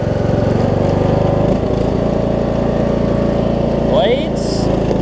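A Craftsman T2200 riding mower with a Briggs engine runs loudly and steadily close by, its drone shifting slightly partway through, with a couple of short high mechanical squeals near the end.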